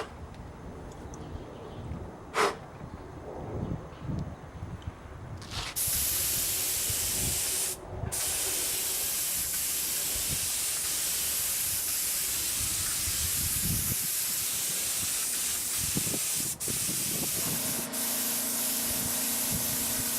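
Spray gun laying a thin coat of thinned paint, a steady close hiss running almost continuously with brief pauses, while wind gusts rumble low underneath.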